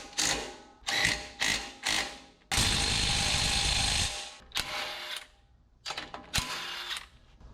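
A hand ratchet tightens brake parts during a brake job, clicking in several short, sharp bursts, then one longer continuous run, then a few more bursts, close by with no talk.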